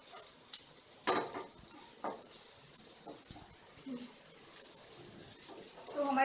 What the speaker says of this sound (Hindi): इसी तरीके से हम इसको 2 से 3 मिनट के लिए पकाएंगे।